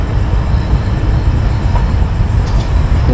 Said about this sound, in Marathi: बघा मागे ट्रेन